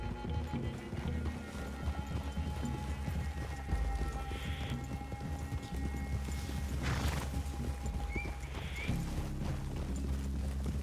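Horses walking in the video game Red Dead Redemption 2, a steady, fairly close clip-clop of hooves on the ground that runs throughout, with a brief whinny and faint ambient outdoor noise.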